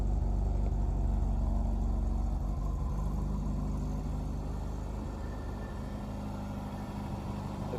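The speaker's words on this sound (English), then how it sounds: "The engine runs really well. I really love how it sounds." A Porsche 924 engine runs smoothly at a steady idle, with a low, even rumble that holds close and loud throughout and dips slightly in level near the end.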